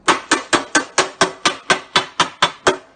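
A ball peen hammer tapping a car body panel from behind to push up a dent, eleven crisp, evenly spaced metallic strikes in steady rhythm, close and clear with no voices.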